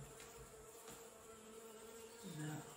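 Bees buzzing around an old wall on a French renovation property, a steady faint insect drone that swells briefly near the end, with no talking.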